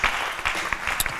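A church congregation claps in a steady, fairly close round of applause, the clapping carrying on evenly throughout with no talk over it.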